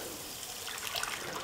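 Cooked mutton and its cooking water are poured into a pan for mutton kulambu, giving a soft, steady liquid splash and trickle, faint and close, with no voices.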